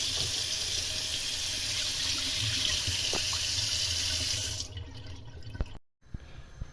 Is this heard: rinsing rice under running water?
yes